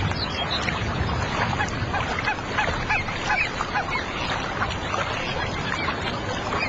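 Greylag geese honk in a dense, noisy chorus of many overlapping calls, steady and continuous with no pauses, heard at a moderate distance.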